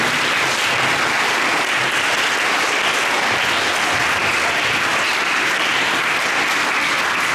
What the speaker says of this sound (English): Let us give them a big round of applause for the wonderful presentation.